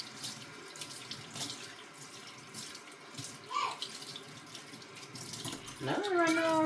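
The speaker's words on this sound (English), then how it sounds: "I'm gonna rinse my hands. I'm gonna wash my hands." Tap water runs steadily into a sink while hands are rinsed before cooking, close and continuous, with a short cat meow partway through and louder splashing near the end.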